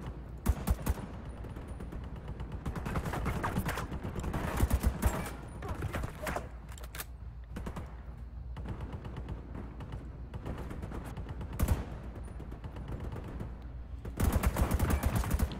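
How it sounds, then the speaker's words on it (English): Rapid bursts of gunfire in the video game Division 2 crackle almost continuously, with some louder volleys standing out over steady game noise. "Getting shot at over there."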